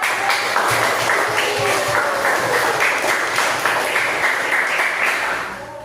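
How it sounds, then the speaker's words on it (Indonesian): Applause from students in a classroom during an Islamic lesson, a steady dense clapping that holds for about five seconds and then tapers. "Boleh tepuk tangan."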